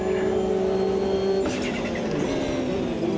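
A Nissan R32 race car with side-pipe exhaust in the racing game Automobilista 2 drones loudly and continuously, engine note steady then shifting as it changes gear, close and alone without talk.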